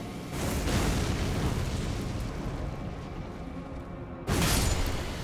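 In the Elden Ring DLC, a cannon-wielding enemy fires, giving a loud booming blast that sustains into a long rumbling roar, followed by a second sharp explosion near the end.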